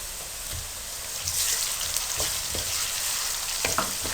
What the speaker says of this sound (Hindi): एक मिनट बाद आपने इसमें लहसुन पेस्ट शामिल कर देना